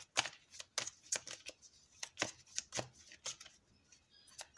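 Oracle cards being shuffled by hand, a quick series of sharp papery riffles and flicks close up, with no talking.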